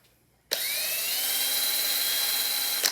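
A power drill whirs steadily at low speed while polishing a spray-painted 3D printed part, starting abruptly after a brief quiet moment and holding an even, close whine with a slight pitch rise until the end.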